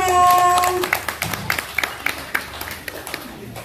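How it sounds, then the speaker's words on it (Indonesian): A small group applauds a young schoolgirl, a short burst of scattered claps that thins out, following a brief tone and heard alongside talk. "Tepuk tangan untuk Mutiara."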